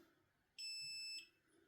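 A solar inverter alarm gives a single high electronic beep lasting about half a second, sharp and tonal against a quiet room hum.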